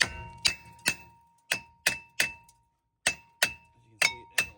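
A hammer taps a corroded brake disc on a Subaru Outback during front wheel bearing work: nine sharp, ringing metallic strikes, close and clear, mostly in quick pairs with short pauses between, each leaving a bright bell-like decay.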